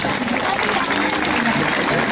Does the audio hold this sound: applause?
yes